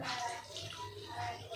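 Water is poured from close by onto biscuits in a bowl, a soft continuous gush that rises and falls over a brief span, with faint talk nearby.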